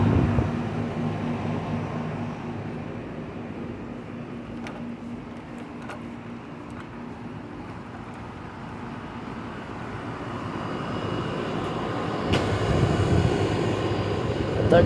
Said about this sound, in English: That equipment's a heat pump.